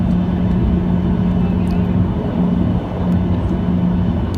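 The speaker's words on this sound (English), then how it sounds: "So we're just now taxiing to make our way to the runway for takeoff." Cabin noise inside a Norwegian Boeing 737-800 taxiing toward the runway, heard from a window seat: a loud, steady low engine drone with faint clicks and rattles and no talk.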